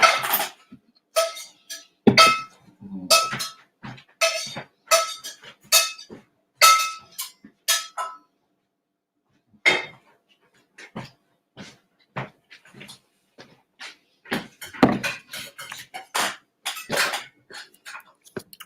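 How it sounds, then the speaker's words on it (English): A metal spatula scraping and clinking against a non-stick Teflon pan as a man cooks, a string of short sharp scrapes and taps close by, with a brief pause before more irregular clatter. "he was just using a metal spatula on Mom's no stick Teflon pan"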